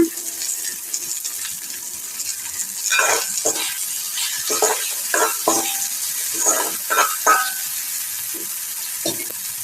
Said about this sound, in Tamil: எண்ணெய் எல்லாம் இருக்குது நல்லா வதங்க விடுங்க